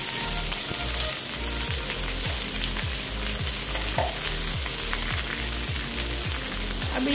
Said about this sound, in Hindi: अब इसे हम हल्का ब्राउन होने तक भून लेंगे